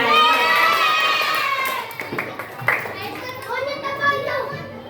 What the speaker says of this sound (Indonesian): Oke, tepuk tangan untuk kelompok ini.